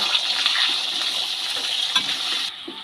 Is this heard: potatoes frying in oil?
yes